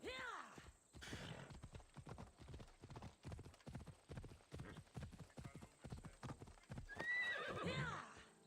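Rhythmic clip-clop of horse hooves at a steady trot in the video game Assassin's Creed Odyssey, with a horse whinnying at the start and again near the end.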